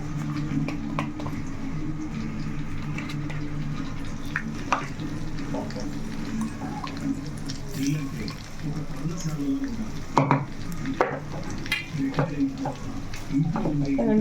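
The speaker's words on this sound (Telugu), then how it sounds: "చక్కగా మసాలా కూడా వేసాను ఇప్పుడు కలుపుకుందాము" Masala being stirred into chicken frying in a pan, a steady sizzle running throughout with scraping spoon strokes, while someone talks over it.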